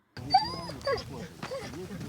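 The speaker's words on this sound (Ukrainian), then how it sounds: "Фахівцям допомагатимуть спеціально навчені собаки." A specially trained demining detection dog whimpers in a field, giving a few short high, wavering whines close by over a brief stretch.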